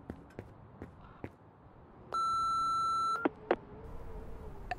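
A voicemail beep from the horror game Remothered: Broken Porcelain sounds as one sustained electronic tone lasting about a second, followed by a couple of short clicks, over faint ambient tapping.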